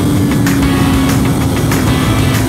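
A Triumph Daytona motorcycle engine screams at high revs on a race circuit test, loud and close, holding a sustained high-pitched drone with slight fluctuations.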